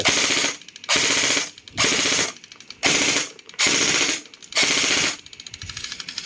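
Rapid full-auto bursts from an M4-style airsoft rifle with an electric magazine, six long strings of shots separated by brief pauses, loud and close.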